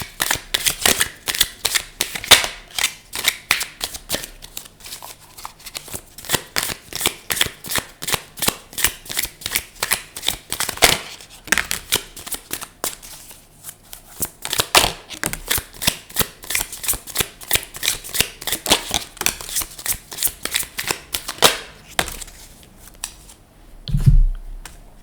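Message cards are shuffled over and over for about twenty-five seconds, a dense, close, rhythmic riffle of crisp card flutters with short pauses between runs.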